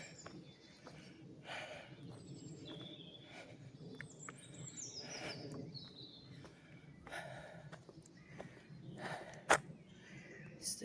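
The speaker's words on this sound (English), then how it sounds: "If you enjoy birdsong." Birdsong in oak woodland, scattered chirps and calls at moderate distance over a soft ambient background, with one sharp, brief call near the end.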